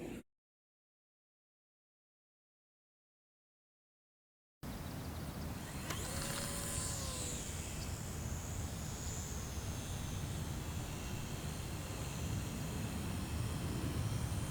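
E-Flite UMX Slow Ultra Stick, a small electric RC airplane with AS3X stabilisation, buzzes steadily through the air outdoors after a few seconds of silence, its motor whine shifting in pitch over a broad wash of wind noise.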